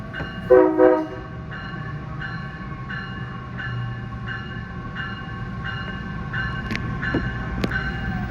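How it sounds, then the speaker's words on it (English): A rail grinder train at a Metra Electric station sounds its horn in a loud double blast at first, then short, fainter horn toots recur over steady rail rumble. "I was wondering what he was honking at."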